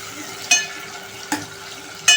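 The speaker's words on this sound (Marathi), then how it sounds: "आता आपण टाकायचे 2 चिरलेले टोमॅटो" Chopped tomatoes drop into onions frying in oil, giving three sharp splash-and-sizzle bursts over a steady low frying hiss, close up with no talk.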